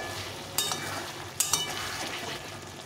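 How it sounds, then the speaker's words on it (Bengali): Meat with papaya being slowly fried in oil, a steady soft sizzle running throughout with a few sharp clinks of a spoon against the pan, no talking. "মাংস সেদ্ধ হোক, মাংসটা কষা হচ্ছে আস্তে আস্তে। তেল ছেড়ে দিয়েছি সাইড দিয়ে।"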